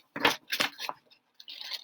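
Scissors cutting out paper pieces, a few close crisp snips and rustles in quick succession with brief pauses, no talking.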